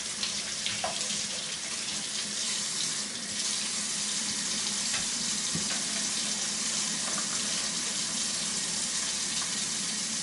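Food rinsed under running water at a camp breakfast setup, a continuous hissing stream from start to finish with a few faint knocks and splashes, steady and close, with no talk.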